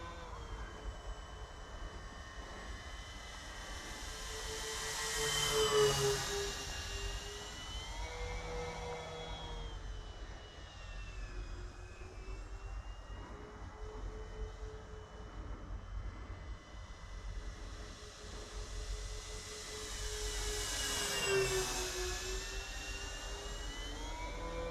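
An Avios KingTwin 1700mm RC turboprop airplane flies at sunset with a steady whining turbine-like drone, swelling loudly twice as it makes close passes and fading between them.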